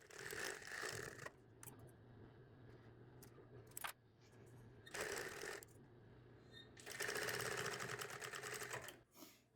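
A sewing machine stitches a small hem over bias tape on a terry cloth towel, running in three close bursts of rapid whirring stitches separated by short pauses with faint handling noises.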